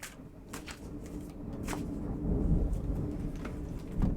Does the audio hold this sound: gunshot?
no